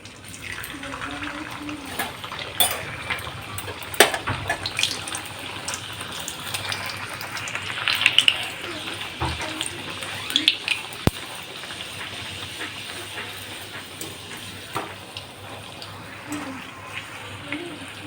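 Sago (sabu) luchi fries in hot refined oil in a kadai on a gas stove, giving a steady loud sizzle with scattered sharp crackles and pops throughout, with some talk.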